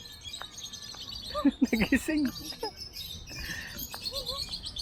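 Birds chirp in a short burst of calls near the middle at an eco park in Meycauayan, Bulacan, set against steady outdoor ambience, with a person speaking briefly.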